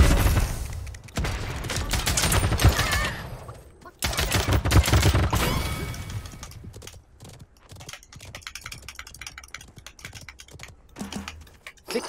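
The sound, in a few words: gunfire in the video game Realm Royale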